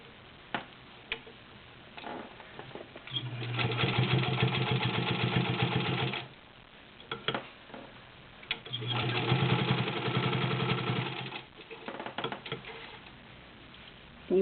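A turquoise Good Housekeeper Class 15 clone sewing machine stitches through six layers of denim in two sustained bursts of rapid, even needle clatter, separated by quieter ticking and pauses.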